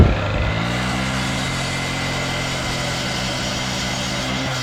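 Diamond-blade saw cutting through steel rebar reinforcement mesh, a loud, sustained high whine with a steady engine hum that starts up and then runs evenly throughout, with no voices.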